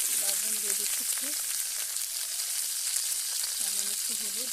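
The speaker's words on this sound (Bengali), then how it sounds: "আলুটাও এর সঙ্গে ভেজে নেবো" A potato fries in a pan with a constant bright sizzle, close and even, while someone talks in short bursts over it.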